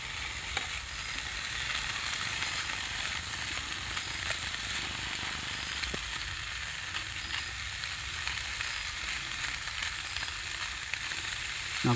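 Food sizzling and frying in a pan on a wood stove outdoors in the woods at night, a steady close crackling hiss with occasional small pops and no talking.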